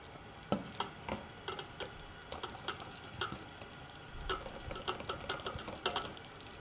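Butter sizzles and crackles in a skillet where a cake is about to be fried, a quiet, busy stream of small pops and spits with no talk.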